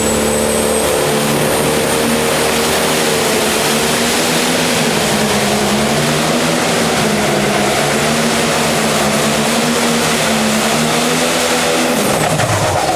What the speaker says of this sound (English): You could actually hear the RPM zinging up and then pulling back down as that front end did get high enough